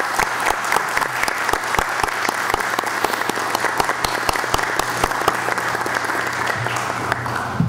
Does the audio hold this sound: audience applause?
yes